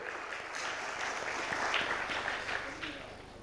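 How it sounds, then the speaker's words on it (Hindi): An audience applauds at a televised panel gathering with journalists, a moderate, steady clatter of clapping hands with some voices mixed in. "जोरदार तालियां हो जाए एक बार फिर से।"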